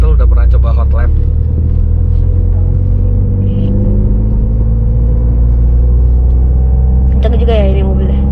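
Toyota GR Yaris driving with a deep, steady engine rumble heard from inside the cabin, with a voice talking briefly at the start and again near the end.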